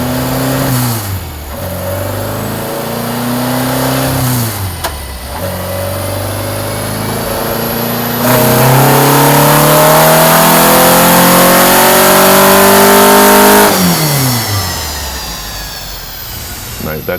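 A race car engine revs hard on a dyno during a power run, climbing through repeated pulls with short drops between them, then holding a long, loud high-rpm stretch before falling away.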